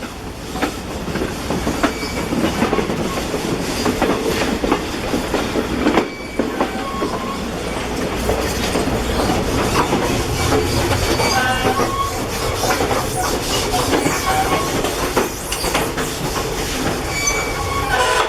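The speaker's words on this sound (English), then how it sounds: "BNSF diesel coming up." BNSF diesel train rolling past on the rails, a steady loud rumble with clickety-clack wheel noise and occasional squeals running the whole time without pause.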